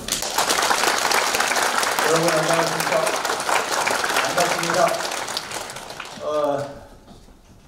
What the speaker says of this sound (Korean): 우리 회장님 모시겠습니다. 박수 주세요.